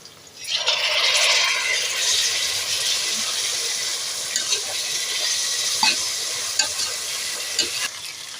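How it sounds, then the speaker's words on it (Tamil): Chopped tomatoes with onions and chillies sauté in a pan for chicken biryani, sending up a loud, steady sizzle that rises when they go in, with intermittent scrapes and clinks of stirring. "இப்போ நம்ம வெட்டின தக்காளியே உள்ளே போட போகிறோம்"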